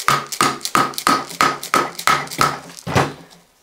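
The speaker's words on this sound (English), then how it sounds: "we can install our connecting rod into position and continue hammering home." A connecting rod and piston from a BMW E31 850i V12 being hammered into position: about nine sharp, close, loud knocks in an even rhythm roughly three per second, the last blow slightly delayed before fading out.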